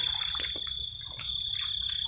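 Frogs croak in a rice field at night, a steady, fairly faint chorus of short croaks. A constant high insect-like whine and low background rumble sit underneath, and no one speaks.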